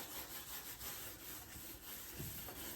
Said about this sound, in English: I'll give her a scrub.